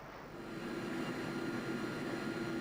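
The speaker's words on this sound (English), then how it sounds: "this is the United States military's new long-range heavy-lift transporter" A heavy-lift long-range military transport aircraft makes a short takeoff at the 1997 RAF Fairford air show, its engine roar swelling and then holding loud and steady with no talk.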